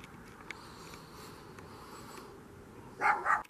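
A dog barks twice in quick succession near the end, close and fairly loud, after a stretch of steady background noise.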